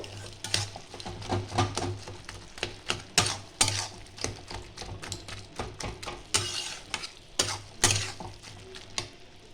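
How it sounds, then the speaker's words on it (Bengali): Cooked cabbage and boiled potatoes being stirred and mashed in a pan for a Bengali vegetarian dish, with steady scraping strokes and a soft sizzle throughout, close and moderately loud with no talking. "একটু আলুগুলো আমি ঘেটে দেবো"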